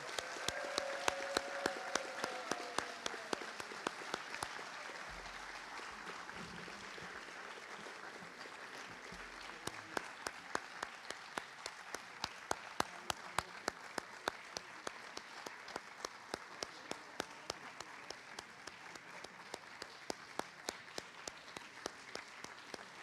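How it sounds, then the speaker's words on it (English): Long round of audience applause for students at a high school senior awards night, a broad wash of clapping that settles into rhythmic unison claps, with low voices and music briefly underneath. "How about one last round of applause for our students?"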